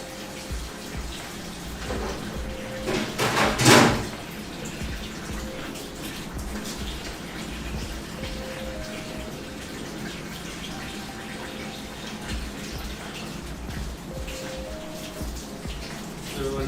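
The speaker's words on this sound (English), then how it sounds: "Doing the dishes." Dishes being washed under a running kitchen tap, a soft rush of water with a brief louder splash burst, under intermittent talk.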